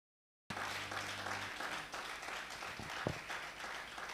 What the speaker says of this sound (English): If you know why I asked you to clap, you will clap better.